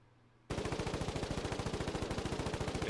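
Rapid machine-gun bursts from a tank in a video game, starting abruptly after a moment of quiet and continuing as a steady, loud stream of evenly spaced shots.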